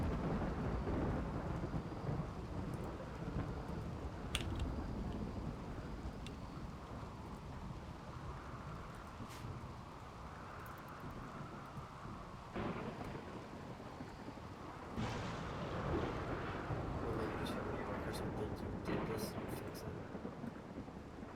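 Steady rain with rolling thunder in the Rimworld colony-building game, a dense continuous wash with a few louder swells and crackles, while a voice talks faintly over it.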